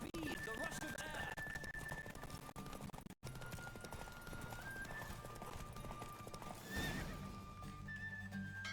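A horse gallops with rapid hoofbeats and whinnies loudly in The Witcher 3, set against game music and a voice talking over the action.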